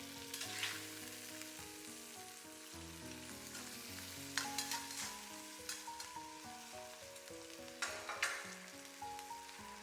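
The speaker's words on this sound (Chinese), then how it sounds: "再把調好的料汁全部倒進去， 快速翻炒均勻，讓每塊排骨都裹上醬汁。" Pork ribs sizzle and crackle steadily in a wok as a prepared sauce is poured in and quickly stir-fried, with occasional scraping and clatter of the spatula over a continuous hot frying hiss; no voices.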